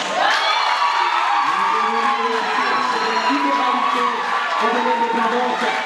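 A crowd at a French-language talk on economics and justice cheers and whoops for a speaker, with applause under a continuous, loud wash of shouting voices.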